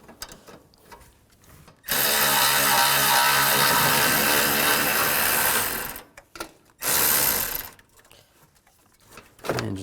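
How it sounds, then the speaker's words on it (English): A powered ratchet or driver with a 12mm socket spins a bolt out from a 2013–17 Nissan Sentra during cooling fan removal, giving one long buzzing whir followed by two shorter bursts, close and loud with quiet gaps between. "Take that one out and use a 12mm socket."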